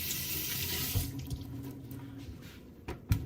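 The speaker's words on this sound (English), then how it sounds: "Wash my hands again." A kitchen tap runs steadily as hands are washed after cutting a watermelon, a continuous close water stream with a couple of brief clunks and splashes near the end.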